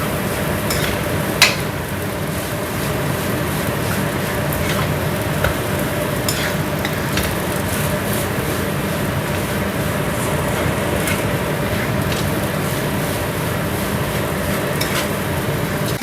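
Nasi goreng with egg stir-fried in a pan, producing a continuous loud sizzle with scattered clicks and scrapes of the spatula over about sixteen seconds, no talk.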